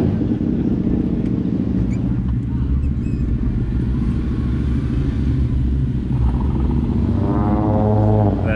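Tires of a 1994 Suzuki Carry kei truck roll along the road, a dense low rumble and road roar that holds steady throughout, with a rising whine near the end and no voices.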